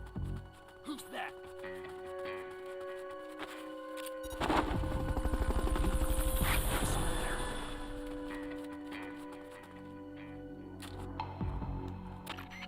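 In Metal Gear Solid: Peace Walker, a Fulton recovery helicopter whirs up loudly, its rotor chopping for several seconds before fading, amid scattered smaller game sounds.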